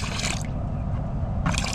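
Degreaser liquid is poured into a container for pressure washing, giving a short, close, steady trickling splash with bursts of brighter hiss at the start and end.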